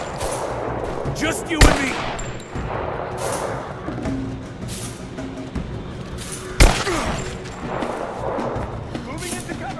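Gunfire in Rise of the Tomb Raider: rattling machine-gun bursts with two heavy, sharp shots standing out, mixed with battle noise while voices shout over it.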